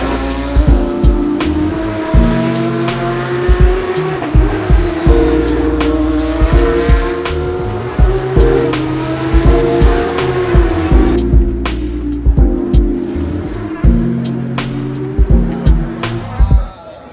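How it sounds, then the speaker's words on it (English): Porsche Cup race cars lap Circuit Gilles Villeneuve at the 2025 Canadian Grand Prix, loud engines droning and revving through repeated shifts and passes, with a brief lull near the end and faint talk in the background. "Running right now. You can hear them going. Yep. Porsche Cup cars."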